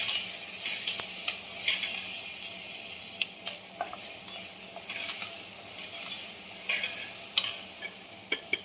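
Crushed green chili and garlic thecha with ridge gourd sizzles in a pan as it is stirred, a steady close frying hiss broken by occasional sharp clicks and scrapes of the spatula.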